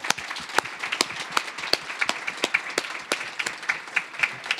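A live audience at a university winter speaker series event gives a round of applause for a former mayor, many hands clapping in a steady, dense patter with sharp individual claps standing out throughout.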